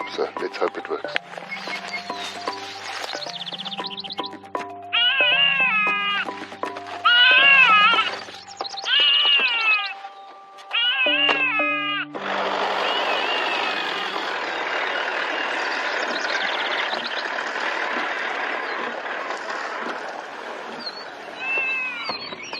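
Recorded animal distress calls blare from a caller set out near a carcass to draw lions, wailing, cat-like cries repeating in bursts, then giving way to a broad rushing noise, with someone talking over parts of it.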